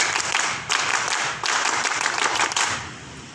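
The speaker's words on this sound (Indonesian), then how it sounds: "Tepuk pramuka." Children perform a scout clap, producing several bursts of rhythmic clapping with short pauses between groups, moderately loud and close, with no talking over it.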